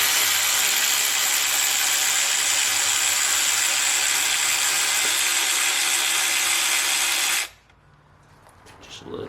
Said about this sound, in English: we're gonna just tighten this one down a little bit